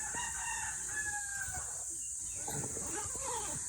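A rooster crows on a farm, faint and somewhat distant over a constant high-pitched hiss, with a few soft clucks and no clear talking.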